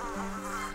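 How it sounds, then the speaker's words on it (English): Mosquito enemies in the Rayman Legends co-op platformer give off a steady, close insect buzz with a sustained droning tone, short and uninterrupted, with no talk over it. "Oh no, oh, mosquitoes!"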